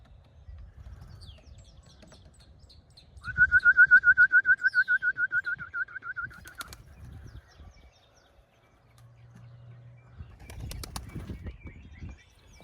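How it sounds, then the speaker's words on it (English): Small birds fly up around a yard, wings flapping and a clear whistled call trilling for a few seconds, with faint chirps scattered before and after and low handling noise throughout. "We got birds up everywhere."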